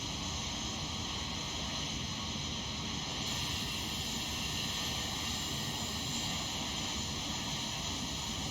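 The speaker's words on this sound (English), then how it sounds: "Different type of flyby." Simulated Airbus A319-132 with IAE engines passing by in X-Plane 12, a steady broadband jet roar holding at constant loudness throughout with no clear rise or fade.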